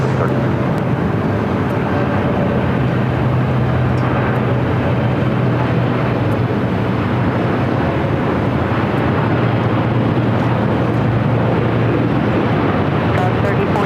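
An airliner taking off from runway 24 left at LAX, a sustained loud engine roar with deep rumble and steady broadband noise throughout, no distinct breaks.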